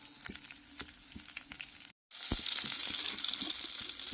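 Cumin, mustard seeds and dried red chillies sizzle in hot oil, a steady close hiss with scattered pops that breaks off for a moment, then returns louder and denser.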